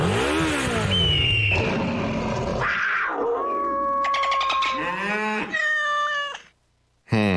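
A sound-effects performer in a radio ad vocally mimics a motorcycle ride, producing meows, whines and rising revving tones, with a brief silence near the end.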